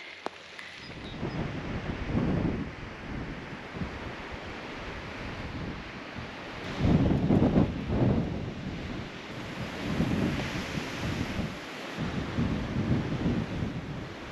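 Strong storm wind at an off-grid tiny house in Portugal roars and buffets the microphone continuously, with heavy gusts surging and fading; no voices.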